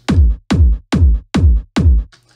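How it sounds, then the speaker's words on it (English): Five booming electronic kick drum hits from a hard trance track, in an even, steady beat, deep and punchy with a short decay, played alone. "main kick sounds like this on its own."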